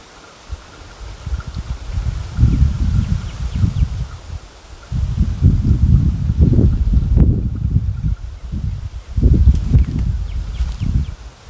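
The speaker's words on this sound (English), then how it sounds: "the wind's blowing pretty good" Wind blowing outdoors in gusty surges, a loud low rumble with rustling that swells and eases across the clip, no voices present.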